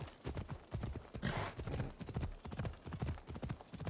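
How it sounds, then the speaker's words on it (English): Horse hooves clip-clop steadily in Assassin's Creed Odyssey, a quick, even rhythm of hoofbeats close up and fairly quiet, with a brief swell of rushing noise partway through. "Here's a horse. I'd steal it."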